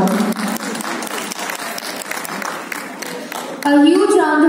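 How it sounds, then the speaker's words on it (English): Audience applause at an award conferment ceremony for vice chancellors at an international conference, a continuous patter of clapping, with a voice rising over it near the end. "A huge round of applause for all the awardees."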